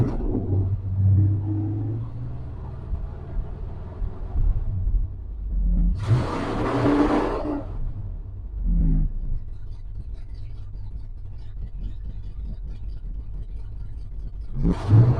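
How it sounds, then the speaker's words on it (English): A 1971 Ford F100 pickup truck engine idles with a low rumble throughout, with a brief swell of revving roughly midway and another short surge at the end; no voices. "let's start the engine. Make sure it's still okay."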